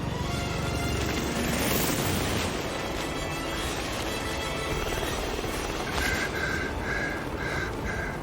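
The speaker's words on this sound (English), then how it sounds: "Alexa Carlisle's helicopter just took off." A video game helicopter lifts off, its steady loud rotor and engine roar filling the scene without a break, with brief higher electronic tones near the end.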